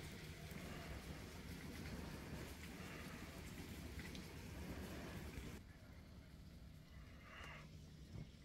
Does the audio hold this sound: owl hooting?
no